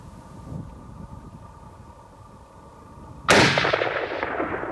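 A single loud rifle gunshot while hunting cracks out after a quiet stretch and rolls away in a long echoing boom across open country.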